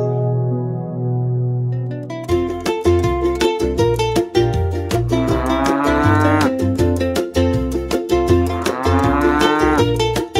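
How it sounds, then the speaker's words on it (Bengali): Cows moo loudly in long, low calls over a rhythmic musical backing that keeps a steady beat throughout. "ও রফিক ভাই, তোমার গরুগুলো বেশ শক্তিশালী হয়েছে দেখছি।"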